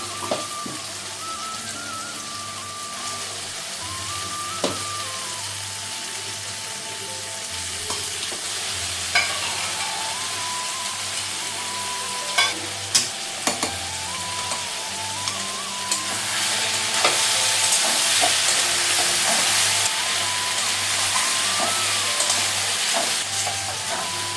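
Mutton (goat meat) fries and is stirred in a pan for a Bengali curry, a loud continuous sizzle with scraping stirs and occasional clacks of a spatula throughout, swelling louder toward the end.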